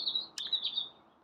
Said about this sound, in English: Listen to the songs of the birds.